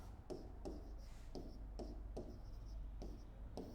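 Pen writing on paper during a lesson, a faint, close series of short scratchy strokes in an irregular rhythm, heard alone in a quiet room.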